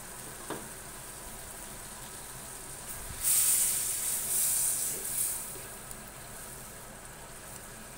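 Prawns with green chilies and a little water sizzle in a covered pan, a steady hiss swelling for about two seconds before fading to a faint background simmer, with no talking.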